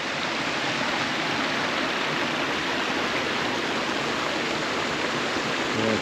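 A waterfall in the Cheviot Hills of Northumberland pours in a steady, dense, unbroken rush, loud and close, with no other sounds above it.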